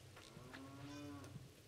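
Cow in Ocarina of Time Master Quest giving one long, low, steady moo with a rising harmonic tone, close but quiet over soft background noise.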